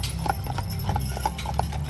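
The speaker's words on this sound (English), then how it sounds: "these horse-drawn wagon rides that were being offered to attendees" Horse hooves clip-clop at a steady, uneven rhythm as a horse pulls a wagon offering rides at a Western Days event at the Lake Tahoe History Museum, moderately close over a low rumbling background.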